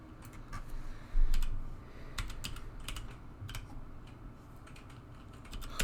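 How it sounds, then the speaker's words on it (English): Quick bursts of keystrokes on a computer keyboard while working on a chip bag design in Affinity Photo, close and fairly quiet, with short pauses between clusters of clicks and one louder thump partway through. "I'm going to type in"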